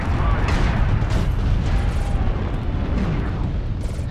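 Airstrike explosions in a large-scale military video game battle, heavy rumbling booms rolling continuously and loud, with dense low-end blast energy throughout.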